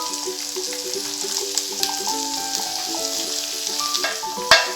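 Browned onions and a little flour are stirred in a pot for French onion soup, with a close, steady sizzle, scraping stir sounds and a sharp clank near the end.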